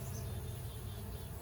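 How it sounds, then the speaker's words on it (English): Honeybees in an opened hive during a first inspection make a dense, steady, close-up buzzing hum with no break across the moment. "they're buzzing a lot"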